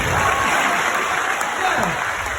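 Audience applause at a University of Benin pharmacy alumni reunion, a steady dense wash of clapping throughout with some voices mixed in underneath.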